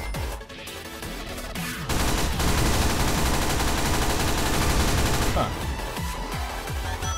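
Rapid automatic AK assault rifle fire in a Sonic video game, dense continuous bursts over game audio, loud and sustained through the middle with scattered shots before and after.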